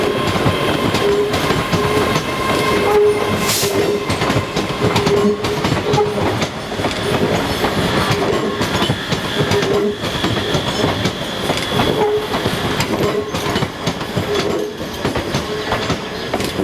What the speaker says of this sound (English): ScotRail has 70 of these modern AT200 units that were built by Hitachi and are used on the central belt of suburban and interurban services